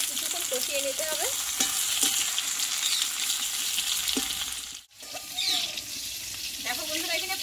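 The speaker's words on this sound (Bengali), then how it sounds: "পটলটা কিন্তু ঢাকন না দিয়ে কিন্তু কষানোর চেষ্টা করবে।" Pointed gourd (potol) frying uncovered in oil, a continuous close sizzle broken by spatula scrapes and stirring clinks, with a brief dip to near silence midway before the frying resumes.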